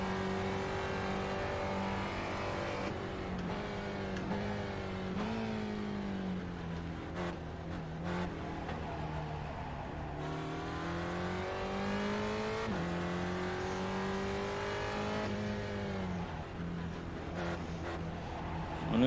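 A race car engine in iRacing revs and climbs through gears, dropping and rising again repeatedly in a steady, continuous drone with no talk.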